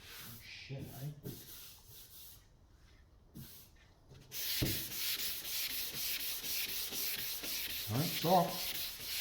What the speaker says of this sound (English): That's definitely sanding.